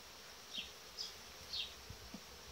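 Honey bees buzz faintly at a beehive in a soft, continuous hum, with a few brief louder passes as single bees fly close by.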